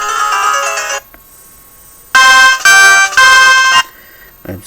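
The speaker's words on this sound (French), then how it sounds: "je vais vous faire écouter quelques sonneries." Ringtones from a Mobiho Essentiel senior mobile phone, loud and close: a sustained melodic tone, a pause, then three bright repeated bursts of ringing, with a short soft sound at the end.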